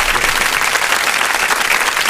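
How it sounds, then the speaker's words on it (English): A clap button triggers a canned applause effect, a dense burst of crowd clapping that stays loud and steady for about two seconds. "She found where the clap button was."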